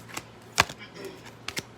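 Tarot cards being shuffled by hand in a quiet room, with a few short, separate riffling bursts, one louder near the middle and a pair near the end, fairly close and soft.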